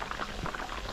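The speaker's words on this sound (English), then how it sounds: "We're gonna be frying fish just now." Fish frying in hot oil outdoors in the Guyanese jungle, giving a dense, close, continuous sizzle and bubbling crackle with no talking over it.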